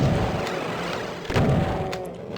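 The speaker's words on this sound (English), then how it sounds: "I'm just going to stick to the super shotgun here." Super shotgun firing in Doom 2, two heavy booming blasts, one at the start and a second about a second later, loud and punchy against continuous game noise.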